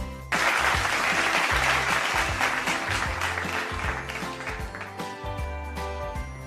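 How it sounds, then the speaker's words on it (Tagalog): A classroom group of children claps at once, a dense burst of many hands that starts abruptly, stays loud and slowly fades as the clapping thins out. "Pumalakpak nga kung handa na."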